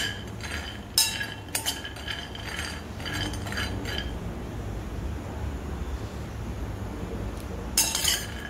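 Dry fruits and nuts are dry-roasted in a pan for protein laddus. A spoon clinks and rattles against the pan in short bursts, then the sound drops to a quiet gap before a final clatter.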